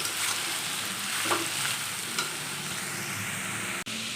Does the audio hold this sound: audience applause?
no